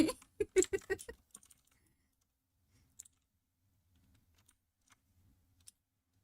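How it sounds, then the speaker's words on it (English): Rapid clattering keystrokes on a mechanical keyboard, loud and close for about a second, then trailing off into a few sparse, faint clicks separated by near silence. "I just love my mechanical keyboards."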